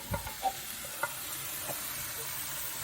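A whole can of diced chipotle peppers in adobo sauce goes into a hot pan for chilaquiles, giving a soft sizzle with a few light stirring clicks and scrapes. The sound is fairly quiet and close, with no talking.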